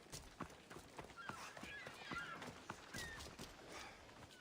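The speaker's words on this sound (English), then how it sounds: "That's a nice horse, Socrates." Horse hooves clip-clop at a steady trot in the video game Assassin's Creed Odyssey, a quiet rhythmic series of hoof strikes with faint whinny-like tones over a low background.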